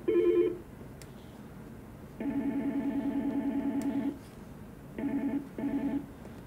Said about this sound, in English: here you can select different versions of ringtones.